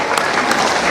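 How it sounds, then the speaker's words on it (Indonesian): A seated audience at a ceremonial gathering claps steadily and loudly, a dense continuous wash of applause with no talking over it. "Beri dong tepuk tangan yang lebih keras lagi buat diri Anda sendiri."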